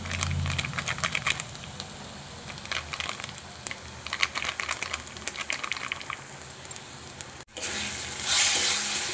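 Turmeric, cumin, coriander and Kashmiri chilli powder sizzle steadily in hot oil in a pan, with repeated stirring scrapes throughout. The frying grows louder and hissier near the end, with no talking.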